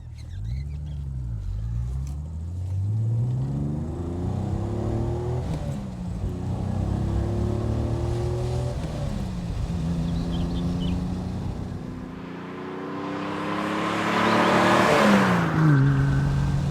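Triumph TR6 straight-six engine pulling hard through the gears, revs rising and falling with each change, a steady loud drone that swells to a harsher peak near the end, no talking.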